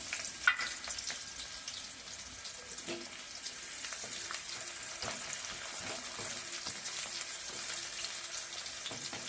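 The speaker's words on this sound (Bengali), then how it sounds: "তেলের ওপর এবার দিয়ে দিচ্ছি কেটে রাখা পেঁয়াজ আর কাঁচা লঙ্কা।" Chopped onion and green chillies frying in oil in a pan, a soft steady sizzle with scattered crackles and occasional stirring scrapes, fairly faint and close.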